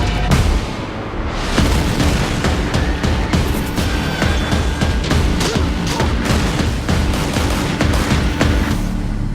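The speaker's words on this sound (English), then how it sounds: "Big explosions, honey." Big explosions and rapid gunfire from a Watch Dogs video game trailer, a loud, dense barrage of booms and shots that continues without a break, with no talking.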